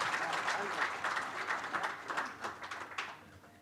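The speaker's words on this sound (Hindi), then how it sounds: "नारी शक्ति के लिए तालियां और जोरदार होनी चाहिए" Audience applause for a panel at a public forum, a dense crowd clapping close and steady, thinning into scattered claps toward the end, with a voice speaking over it.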